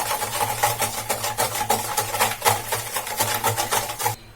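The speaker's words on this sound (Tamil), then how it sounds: "ஒரு முட்டை எடுத்திருக்கேன் அதையும் நம்ம இதில் ஊற்றிக்கலாம் இது எல்லாத்தையும் நல்லா மிக்ஸ் பண்ணிடலாம்" A whisk beats egg, sugar and curd batter in a bowl in quick, even strokes, each pass a close, scraping swish repeating steadily about four times a second until it stops abruptly.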